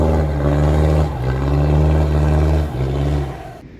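Toyota Land Cruiser Prado 90 Series engine revs through its standard factory exhaust, a loud close drone that rises and holds, dips briefly twice and then fades away.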